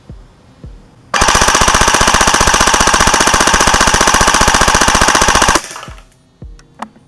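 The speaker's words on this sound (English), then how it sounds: "Let's go full auto now. This whole magazine, so you guys can get that nice close-up footage." Close up, a Novritsch airsoft gun fires a whole magazine on full auto in one long, loud, rapid burst of about four and a half seconds, with quiet clicks and handling before and after.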